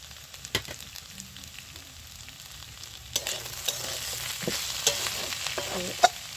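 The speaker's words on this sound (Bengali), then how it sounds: "আলু বেগুনটা আমার ভাজা হয়ে গেছে।" Potato and eggplant frying in a pan, a soft steady sizzle with scattered stirring scrapes and clicks that grow busier and a little louder partway through.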